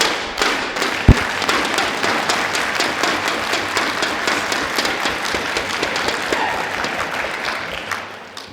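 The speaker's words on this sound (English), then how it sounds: "Crowd getting into it here as well" A crowd at a touchtennis match bursts into sustained applause, dense rapid clapping from many hands at close range, with a single sharp thump early on and no voices over it.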